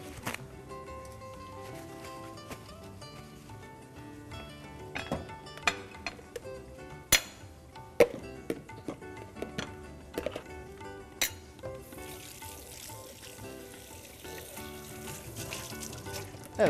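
A baking tray is set down and handled in a home kitchen while onions sauté, giving scattered metallic clinks and knocks of pans and utensils over a soft, steady sizzle, with a few sharp louder hits.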